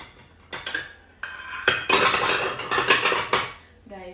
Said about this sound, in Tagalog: Nilagay muna natin itong mga plato dito sa ano.